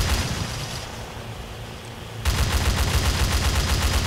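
Video-game gunfire: a rapid, continuous stream of shots that jumps louder partway through and keeps rattling steadily to the end.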